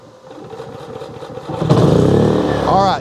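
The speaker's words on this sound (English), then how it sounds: "Let's turn this on and see how hard it is to fire up." An EcoFlow SG4000 dual-fuel generator gets several rhythmic recoil-pull attempts, then catches and roars into a steady, loud, close running drone, while a person talks over it.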